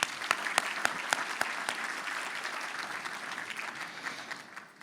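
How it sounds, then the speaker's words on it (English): Dense, steady applause from a symposium audience at an evening event, many hands clapping with crisp individual claps audible throughout, tapering slightly near the end. "Let's give them all a round of applause."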